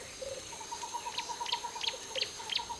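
Great blue turaco calling in a tropical forest canopy, a run of short repeated notes with brief higher chirps at a steady rhythm, moderately near over faint forest ambience.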